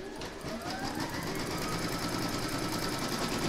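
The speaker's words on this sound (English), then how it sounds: "you're going to stitch round number 1, and that's going to give you your placement outline." An embroidery machine stitches the first round of a large cross appliqué, laying down the placement outline in satin-stitch thread, with a steady, continuous, fast mechanical whir throughout and no talking.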